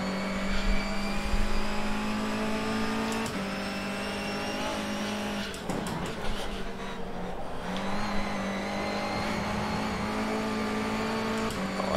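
Sustained BTCC 2020 NGTC touring car engine drone from rFactor 2, loud and steady throughout, with a brief tire squeal and skid mid-lap as the car slides into a corner, no talk.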